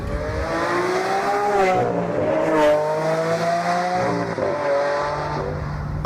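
A Lamborghini Aventador's engine howls continuously while the car is driven, the pitch sweeping up and down through acceleration and gear changes, loud and close with no talking.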